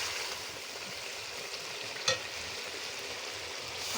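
Village-style mutton curry sizzles in a pan with a soft, steady frying hiss, fairly quiet and near, broken once by a brief clack of a spoon against the pan, and no voices.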